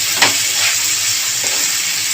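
Onions with a pinch of salt fry in a pan until reddish, making a loud, dense sizzle and hiss throughout, with a brief stirring scrape near the start.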